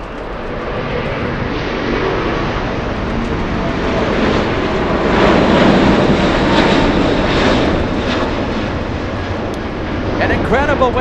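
An Airbus A380 lifts off from runway 25 left right in front of onlookers, its loud broad engine roar swelling steadily over eleven seconds, with faint crowd voices beneath.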